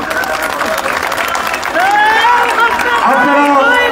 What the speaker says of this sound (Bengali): সবাই একটি করতালি দিই